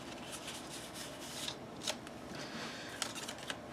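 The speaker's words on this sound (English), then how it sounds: "I put some more cards in here just to put them in the book" Paper cards being handled and slipped into an accordion folio book, with soft, close rustling and shuffling broken by a few sharp little paper snaps, quiet and alone.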